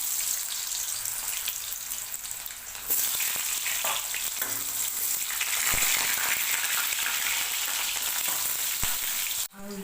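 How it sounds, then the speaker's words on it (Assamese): Potato pieces frying in hot oil in a home kitchen. A quiet hiss jumps to a loud, steady sizzle when the potatoes go in, with stirring knocks now and then, and it cuts off briefly at the very end. "তেল গৰম হৈছে, এতিয়া মই আলু ভাজি ল'ম।"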